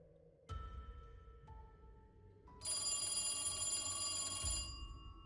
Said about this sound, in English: A telephone starts ringing behind you down the hallway.